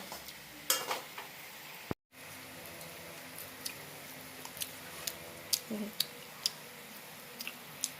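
Rice-flour pitha made with flour, semolina and jaggery fries in oil, giving a faint, quiet bed of sizzle with scattered sharp crackles and pops throughout.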